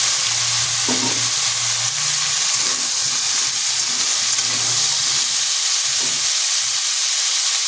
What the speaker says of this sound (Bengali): আলুগুলোকে একটু ভেজে নিলাম, এরপর দিয়ে দিচ্ছি ওলকপিগুলো